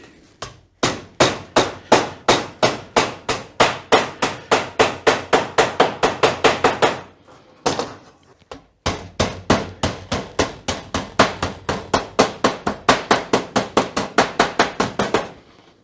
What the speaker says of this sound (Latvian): nu šis ir plasmas āmurīts.